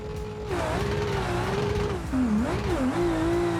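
A drag car in a racing video game screams through its gears, its engine note climbing steadily, dropping sharply at each shift and then rising again, loud and close with no voices.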